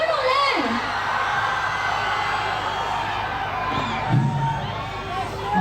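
Fans at a film event cheer, whoop and yell together in a loud, sustained crowd roar with some shrill shouts rising above it.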